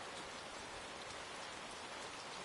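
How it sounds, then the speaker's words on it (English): Rain falls steadily in a park in northern England within the Lushfoil Photography Sim video game, a dense, even hiss of drops with no pauses and no talk. "I was really hoping it was going to stop raining"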